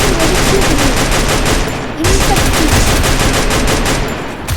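Nonstop automatic gunfire from a Free Fire Craftland map pounds loudly in two dense, rapid bursts split by a brief pause.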